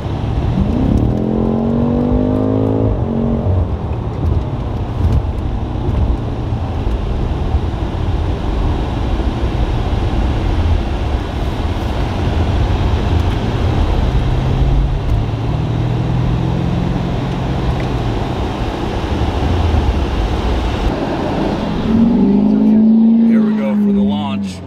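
A 900 horsepower BMW M5 with all-wheel drive rumbles and surges under launch control, a dense steady engine roar with rising tones at the start and end, and voices talking over it.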